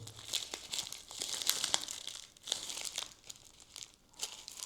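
Crinkling packaging as a well-packed box of new patches is opened, with close, quiet crackles and rustles of plastic wrap in irregular bursts and faint tearing, no speech.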